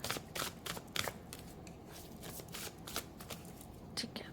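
Tarot cards being shuffled by hand, a run of soft, quick riffling bursts and papery rustles, close and fairly quiet, with a few gaps between shuffles.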